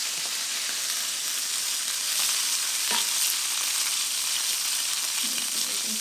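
Anchovies fry in oil in a pan, a steady bright crackling sizzle with a few sharper pops and scrapes of a spoon pushing them around.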